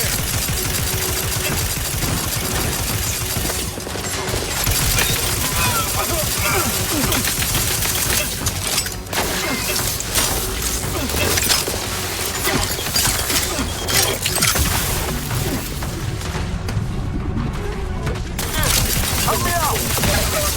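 Gunfire in The Outer Worlds 2 crackles in dense, rapid bursts through most of the stretch, loud and close, with mechanical clatter and shouting voices mixed in.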